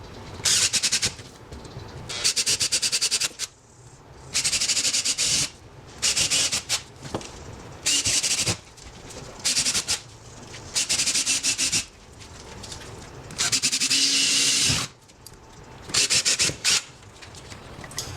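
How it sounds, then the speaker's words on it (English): A drill with a 1/2-inch spade bit bores anchor holes into a wall in about eight close, loud bursts of harsh grinding, separated by short pauses. "I'm going to take my 1/2-inch spade bit and drill for our anchors"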